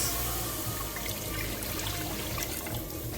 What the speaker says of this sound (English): I'm going to add my water to my pot.